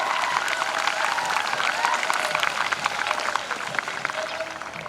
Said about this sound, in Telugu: మరొకసారి గట్టిగా చప్పట్లతో అభినందిద్దాం.